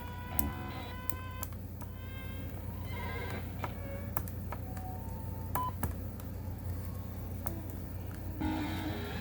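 Harsh, chaotic electronic bleeps and buzzy tones from a SOMA Rumble of Ancient Times 8-bit synthesizer jump abruptly between pitches over a constant gritty drone, with sharp clicks scattered throughout.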